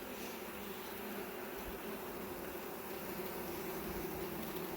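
A steady drone of honey bees in an open hive during an inspection, a continuous close buzz with a low hum running evenly underneath, no voices.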